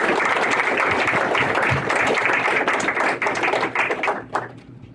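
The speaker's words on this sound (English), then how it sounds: "Let's give Dave another big round of applause." Town hall meeting crowd giving Dave a big round of applause, a loud dense burst of many hands clapping that holds steady, then thins and fades out in the final second.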